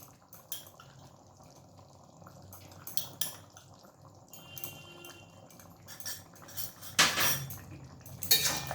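Papaya and chana dal curry is stirred in a pot, with scattered metallic clinks and scrapes of a spoon against the rim and a louder clatter near the end over faint bubbling.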